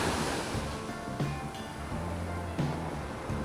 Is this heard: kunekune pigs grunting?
no